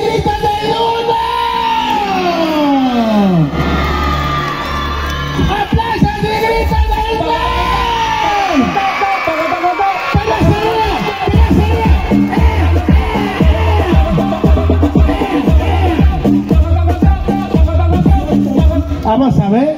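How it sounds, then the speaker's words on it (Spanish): Children in a crowd yelling, whooping and cheering loudly for a clown's show in Putla Villa de Guerrero, Oaxaca, a sustained, dense roar with a brief voice at the start and rising intensity in the second half. "A ver, ¡aplausos y gritos"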